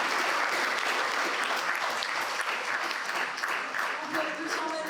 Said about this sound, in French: On peut les applaudir déjà, merci pour leur temps.